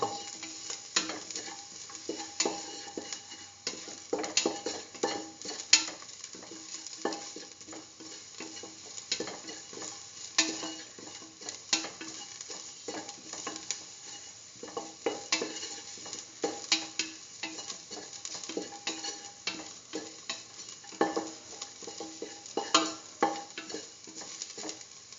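Ginger and garlic fry with the rest of the ingredients for a Hausa potato stew, a steady sizzle broken by repeated scraping stir strokes against the pan, close and without any talk.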